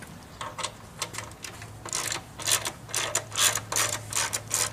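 A ratchet wrench clicks close by as it loosens a 12mm exhaust bolt clamped to the mid pipe of a three-month-old Suzuki GSX-R motorcycle, coming in short bursts of rapid clicking over a low steady hum.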